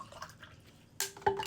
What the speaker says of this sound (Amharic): ውሃ እንደዚህ ትጨምራላችሁ።